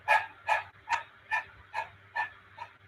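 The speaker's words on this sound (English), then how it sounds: "just start with the tongue out and just panting like a dog" A person doing breath-of-fire yoga breathing with the tongue out, panting like a dog: seven rhythmic, breathy huffs about every 0.4 seconds, close and moderately loud, with no talk.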